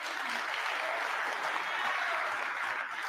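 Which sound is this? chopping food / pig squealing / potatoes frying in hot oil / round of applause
round of applause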